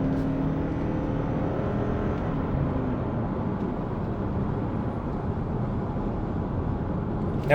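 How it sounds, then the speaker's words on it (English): A 2022 Lexus ES300h Ultra Lux hybrid's petrol engine runs with a steady low drone and faint whir, fairly constant throughout, heard from inside the car. "Now, when the engine kicks in, sometimes it's a little loud."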